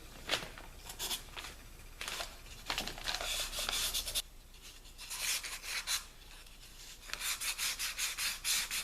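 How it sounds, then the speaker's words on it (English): A milk-painted wood bowl is hand sanded with 240 grit sandpaper in short, steady back-and-forth rasping strokes, close and fairly soft, in rhythmic bursts with brief pauses between them. "I've got a little chunk of 240 grit sandpaper here. I'm going to go ahead and sand this."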